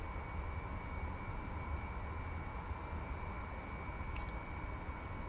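Boeing 737-500 engines in Microsoft Flight Simulator 2020 hum as a quiet, steady drone with a constant tonal whine, even and unchanging throughout.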